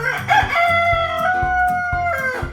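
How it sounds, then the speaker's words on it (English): A rooster crows loudly and close by, one long drawn-out call over a background of rhythmic thumping. "the rooster swooped down from the rafters and crowed in his ear like a trumpet blast"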